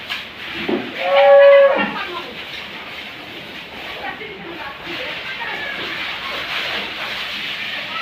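A single low, drawn-out moo from a large dairy cow rises near the start, followed by people talking over farm background noise.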